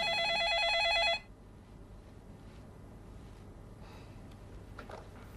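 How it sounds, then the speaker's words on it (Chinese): An office telephone rings loudly with a fast electronic warble for about a second, then stops, leaving quiet room tone with faint breathing and small movements. "好，接电话吧"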